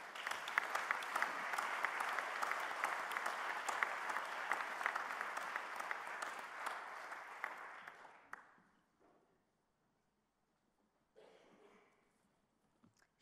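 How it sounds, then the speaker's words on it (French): An audience at the tenth États de la France gathering warmly applauds to welcome the minister; the dense clapping holds for about eight seconds, fades out, and leaves near silence with a brief faint stir afterward. "j'incite tout le monde à vous accueillir avec de larges applaudissements"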